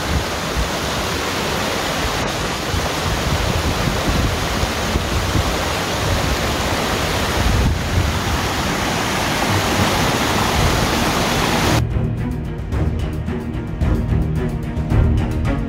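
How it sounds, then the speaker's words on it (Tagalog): Kakawayan Falls on the Marilaque Highway roars as a steady, loud broadband rush of falling water, alone and close, its tone thinning near the end. "Ito ang Kakawayan Falls na matatagpuan sa Marilake Highway."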